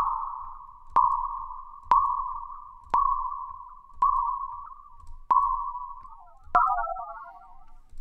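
Opal granular synthesizer set to a longer grain length: a sustained mid-pitched tone is broken by sharp clicks about once a second, each click starting a fading swell, so individual grains stand out before the sound dissolves into a scattered, shimmering texture.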